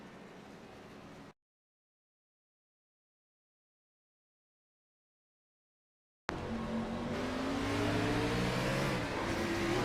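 Racing car engine from a racing video game, roaring loud and close with rising and falling pitch as revs build, a brief burst before a long silent gap and then sustained engine noise with possible tire spin.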